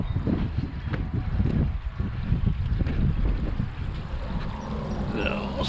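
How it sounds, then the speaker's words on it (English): Water flowing from a garden hose into a newly set pond liner in a backyard, a steady rushing and gurgling wash with low rumbling wind-like noise, close and continuous. "we have water flow."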